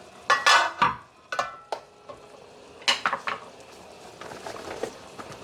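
Chopped carrot, pumpkin and chocho tumble into a pot of beef-bone soup and get stirred, giving a series of close, sharp clatters and scrapes in uneven bursts, then softer stirring noises trailing off.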